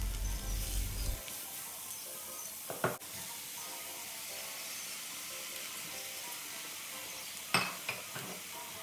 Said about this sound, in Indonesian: wortel, bawang putih, bawang merah ditumis sampai harum